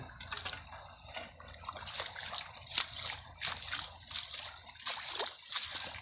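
Irrigation water runs through a field channel, trickling and sloshing close by in uneven bursts that swell and ease, with a faint low background beneath.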